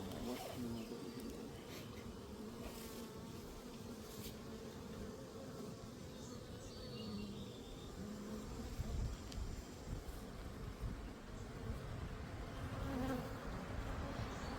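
A crowded honeybee colony buzzes in a continuous, dense drone around a hive box while a swarm is moved into it. The hum is steady and fairly faint and fills the whole stretch, with occasional faint background noise.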